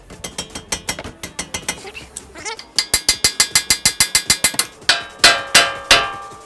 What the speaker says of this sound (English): now we're gonna give it a few taps with a hammer right here so that these guys can separate